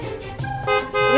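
Several car horns honk in overlapping tones in a stalled traffic jam, with short bursts stacking closely over a low traffic murmur.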